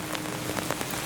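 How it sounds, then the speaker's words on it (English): Steady rain falls in Saddler's Woods where goats are waiting it out. It makes a dense, even patter on surfaces with no speech. "They're just waiting out this rain."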